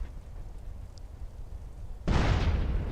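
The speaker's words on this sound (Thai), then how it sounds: "เฮ้ยรถระเบิดรถระเบิด" A car blows up in GTA San Andreas, a sudden loud boom arriving late after a stretch of low game rumble, then a sustained roar of fire and debris, with no talking.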